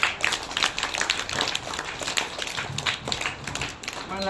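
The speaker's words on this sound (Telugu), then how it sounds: "వాళ్ళకు కూడా క్లాప్స్ కొట్టండి" Summer-camp students clap for the organisers who arranged their meals, a short burst of scattered, uneven applause close by over a few seconds, with talking mixed in.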